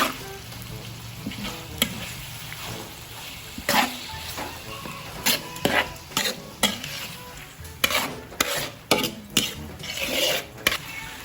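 Corned beef for sopas is stirred and fried in a large wok-style pan, a steady sizzle broken by repeated scraping strokes of a metal spatula against the pan, close and alone.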